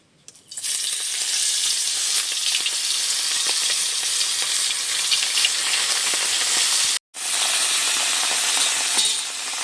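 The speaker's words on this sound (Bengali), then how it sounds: "তেলটা সারা কড়ার গায়ে লাগিয়ে নিয়েছি, মাছগুলো ভেজে নেব।" Whole large fish fry in oil in a wok with a loud, close, continuous hiss that starts sharply and keeps going, cut by one brief gap.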